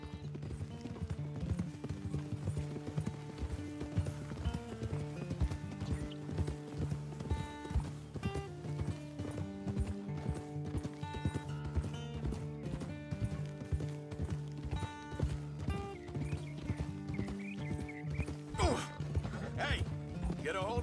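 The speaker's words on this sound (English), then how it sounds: "Hey, get a hold of that horse, Arthur." Steady clip-clop of a horse's hooves in Red Dead Redemption 2, rhythmic and close, running beneath in-game music with a few crashing impacts and a whinny-like cry near the end.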